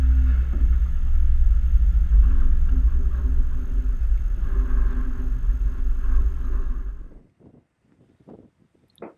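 A pickup truck drives along with a steady, loud low engine and road rumble for about seven seconds, then cuts off abruptly into near silence broken by a few faint knocks.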